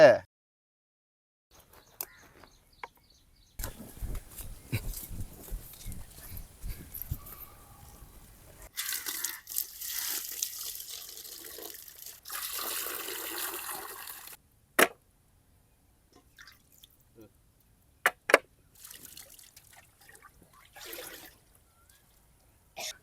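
Raw chicken legs rinsed under water in an outdoor village setting, with a few seconds of steady pouring and splashing followed by scattered splashes and handling sounds, fairly faint and close.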